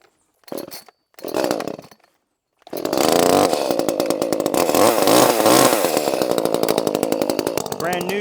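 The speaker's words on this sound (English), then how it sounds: "This is the stock saw with a muffler mod." A stock ECHO gas chainsaw with a muffler mod roars loudly and continuously while cutting wood cookies, following a couple of brief throttle blips, close by with no talk.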